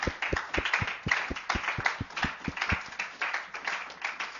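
A church congregation claps together in a steady, even rhythm, about two to three claps per second, to acclaim the Lord during a service. The claps sound fairly soft and close, with no talking over them.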